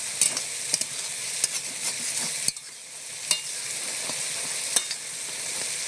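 Taro leaves are stirred in a pan under a soft, steady sizzle, with sharp spatula scrapes and taps against the pan at irregular intervals and no voices.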